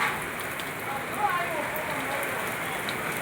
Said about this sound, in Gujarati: થોડો થોડો ધીરે ધીરે છાંટાય વરસાદ ચાલુ થઈ ગયો છે